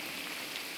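Steady rain falls in a dense, even hiss on an outdoor surface, close and continuous with no voices.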